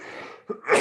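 A single sneeze from a man on a hockey talk show, a short sharp burst after a quiet breathy lead-in, close and fairly loud with no talk over it.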